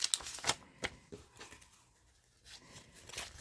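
Paper savings challenge envelope with cash being handled close by, a run of quick papery rustles and crisp flicks, louder at first and then softer, with no talk.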